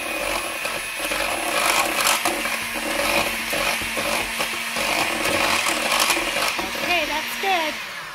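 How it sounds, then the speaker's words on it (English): An electric mixer whirs steadily at close range while eggs are beaten into sugar-free cheesecake batter, a continuous loud buzzing drone with slight wobbles in pitch; a voice talks briefly near the end. "we'll mix the eggs in just a little bit"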